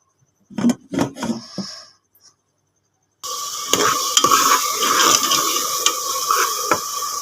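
Masala frying in a covered pan for chicken feet, a steady close sizzle that starts abruptly partway through, preceded by a few scraping stirs and a quiet gap.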